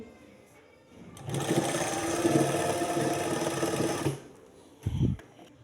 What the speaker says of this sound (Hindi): इस तरह से बिल्कुल आराम आराम के साथ आप इसको रखकर सिलाई लगा लें